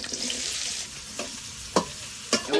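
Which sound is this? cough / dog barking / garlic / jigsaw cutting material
garlic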